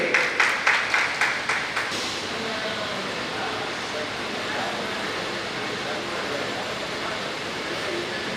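A Lions Club gathering in Muthupet claps briefly as guests are welcomed to the stage, a short burst of rhythmic claps in the first two seconds fading into steady room hiss and murmur.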